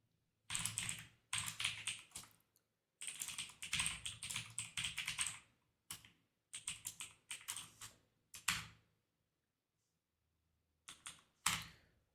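Computer keyboard typing while writing C++ code, in bursts of rapid clicks separated by short pauses, close and clear with no talking.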